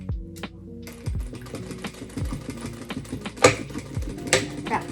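A home sewing machine stitches seams on a baby's party dress, running in short whirring bursts with clicks and brief pauses between them, close and clear.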